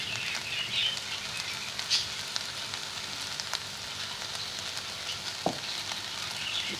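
Eggs sizzle and fry in a pan for Chinese fried rice, a steady crackling hiss with occasional sharp pops and light clinks of a spoon stirring, close and moderately loud, with no talk.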